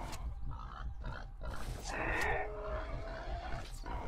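A pig grunting and crying out as it is killed by arrows in the video game The Bard's Tale, rough grunts rising into a strained squeal midway over low game ambience, moderately close.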